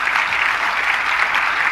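Dense, steady applause from a crowd at a Jain religious discourse during a Panchkalyanak celebration, continuous and even throughout with no speech over it.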